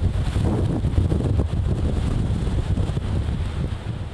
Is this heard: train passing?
no